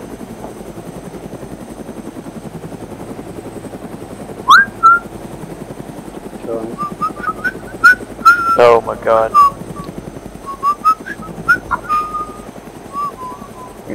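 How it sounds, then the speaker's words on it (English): Someone whistles in short bursts and rising tones over an intercom, above a steady helicopter-like engine drone, with a brief spoken exclamation partway through. "Alright, stop whistling"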